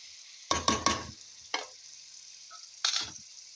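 Tomatoes tipped into a hot frying pan in a village kitchen, giving a few loud sizzling bursts in quick succession, then a short hiss and another sharp sizzle as the pan settles, with no talk over it.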